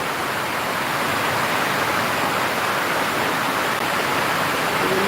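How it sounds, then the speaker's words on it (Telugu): Heavy rain pours steadily at a cowshed by a home, a dense, unbroken broadband hiss that stays loud and even throughout with no voices. "వర్షం బాగా పడుతుంది."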